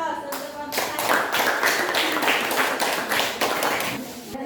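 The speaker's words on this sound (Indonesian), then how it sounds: "silakan kasih aplaus untuk kelompok 1" Classroom applause for the first student group, a steady wash of clapping hands that swells and carries on for several seconds, fairly close and loud, with no talking over it.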